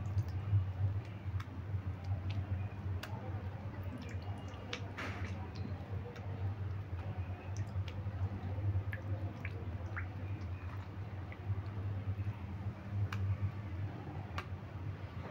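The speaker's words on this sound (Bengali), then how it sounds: "আর এইভাবে জলটাকে টিপে বের করে দেবো" Water dripping and squishing as washed pointed gourds (potol) are squeezed by hand in a kitchen, scattered small drips and soft clicks over a low steady hum, close and quiet.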